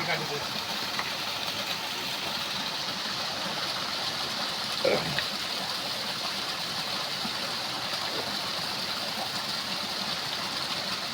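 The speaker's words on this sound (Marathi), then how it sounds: "बघू शकता झाडामधून पाणी येत आहे" Spring water flows steadily out of a tree trunk in a Konkan village, a continuous close wash of running water with a faint engine-like hum and a brief louder knock midway.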